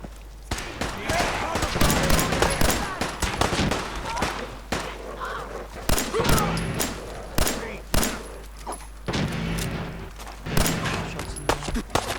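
Gunfire in the Fallout 4 video game, with repeated shots and bursts clustered across the stretch, loud and close, interspersed with brief pauses and a voice talking at times.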